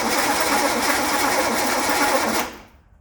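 An engine cranks steadily on the starter while it fails to start because of an ignition spark fault: a continuous, even whirring churn that carries on for over two seconds and then stops abruptly. No one speaks.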